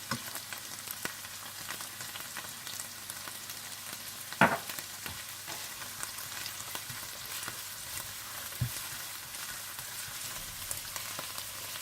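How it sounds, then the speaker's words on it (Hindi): Steady low sizzling of ginger and garlic frying in a pan, a constant crackle with a couple of brief louder clinks, no voices. "जब ऑनियन पेस्ट भून जाए तो आप इसमें अदरक लहसुन डालकर भून लें।"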